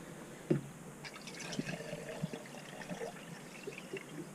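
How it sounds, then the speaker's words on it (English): Water poured into the radiator of a Land Rover Discovery TD5 after a repair, a faint trickling and gurgling stream with a small splash near the start, heard close up without talk. "Now with the fun process of filling up with water."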